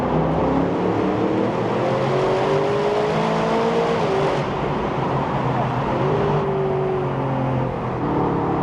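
A handmade Aston Martin roadster, top down, pulls hard in third gear through the 4000 rpm midrange, its engine a loud, steady, rising drone with smooth harmonic climbs and brief dips at shifts, close and continuous.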